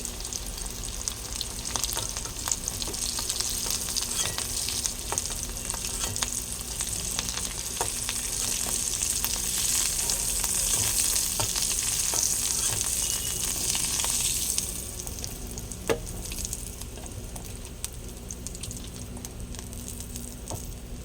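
Pieces of taro fry in hot oil with a steady, close sizzle that swells louder for most of the stretch, then eases to a lower crackle near the end; no voices.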